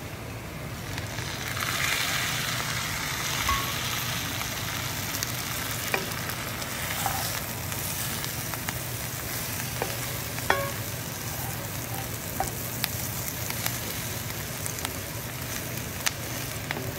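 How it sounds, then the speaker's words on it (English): Sausage fries with potatoes and onions in a cast iron skillet, a dense continuous sizzle with occasional stirring scrapes and small pops, steady and close throughout. "Now I'm gonna add the sausage."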